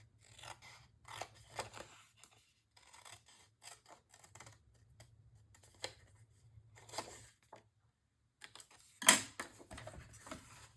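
Scissors cut paper for a mini album storage box, giving quiet, intermittent snips and rustles scattered across the clip, with one louder crisp cut near the end.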